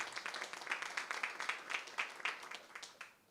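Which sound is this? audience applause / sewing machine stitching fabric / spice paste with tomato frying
audience applause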